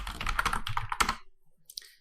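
Quick bursts of computer keyboard typing, a run of close, fairly loud clicks for about a second, then a pause and a few scattered keystrokes as an answer is entered in a quiz program.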